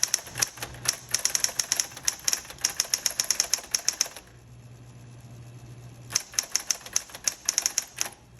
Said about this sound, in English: so this is a great working typewriter